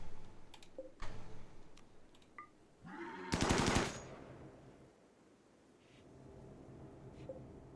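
Rapid gunfire in RimWorld aimed at a mad muffalo: scattered faint clicks and pops, then one loud, short automatic burst, before fading back to a quiet background.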